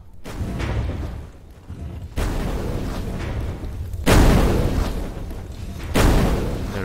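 Several heavy booming fireball explosions in the game Grimrock burst in succession, loud and rumbling, each followed by a long roaring decay.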